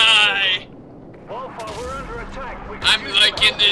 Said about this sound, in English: Explosions are fun!